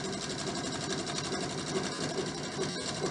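A sewing machine stitches a fabric face mask with ties, running a steady, rapid, even stitching rhythm. It is close and continuous for the whole stretch.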